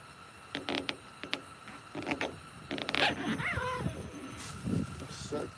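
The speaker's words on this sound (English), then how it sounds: "That thing right there has got some sorry zippers on it." A bag's zipper is yanked in several short, scratchy bursts at close range near a catfishing spot. A small dog whimpers and people talk faintly between the pulls.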